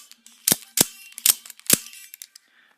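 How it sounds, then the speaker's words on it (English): A Black Titan dual-edge double-action OTF knife fires its blade four times in quick succession, each a sharp, loud mechanical snap, with softer clicks and rattles between and after the shots. "I'm just going to fire the knife 3 or 4 times"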